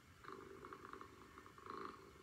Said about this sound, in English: As you hear an animal purring, obviously content